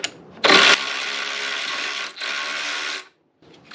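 A ratchet or power driver spins loose a 13mm nut holding the horn on a 2016-2019 Chevy Cruze, a loud close buzzing whir in two bursts with a brief break between, then quiet.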